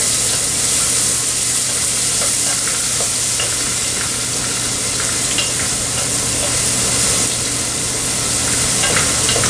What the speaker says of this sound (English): we're going to add that into the pot itself, and we're going to stir